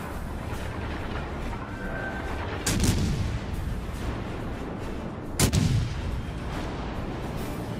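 Naval guns fire on an enemy destroyer in a warship video game, played in a ranked battle as the tier 4 destroyer Jaguar. Two loud, sharp booming salvos, a few seconds apart, stand out over a steady background rumble.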